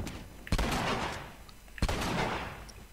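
Two loud, close shotgun blasts about a second apart, each a sharp broadband crack with a short decaying tail, from a pump-action shotgun in The Last of Us multiplayer, over a steady background of game ambience.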